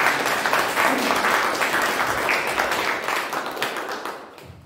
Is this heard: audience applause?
yes